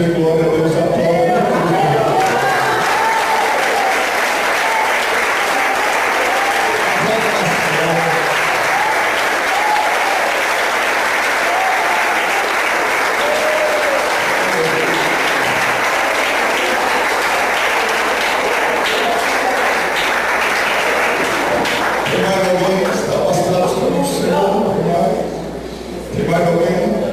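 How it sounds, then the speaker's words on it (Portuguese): Church congregation at a worship service in Caraguatatuba, SP, applauding loudly and continuously for about twenty seconds. Voices and crowd noise are mixed in, the applause tails off near the end, and talk resumes. "Quem pode dizer glória a Deus, aplaude."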